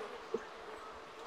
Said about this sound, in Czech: Já slyším ty mouchy